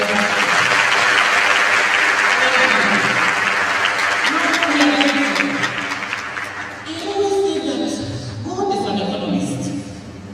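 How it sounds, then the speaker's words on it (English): An audience at a university address claps together, a broad wash of applause that gradually thins while a speaker's voice rises over the tail end. "I'm praying your indulgence again for us to give her a big clap for this particular"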